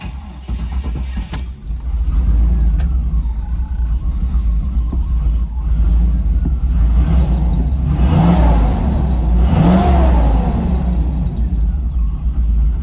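Car engine fitted with a Holley 4175 spreadbore carburetor turning over and catching, then settling into a loud, steady rumble with two strong revs rising and falling near the end, close up and without talk.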